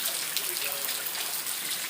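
Steady rain falls outdoors, a soft, even hiss of drops with faint trickling water, constant and moderately distant throughout, with no talking.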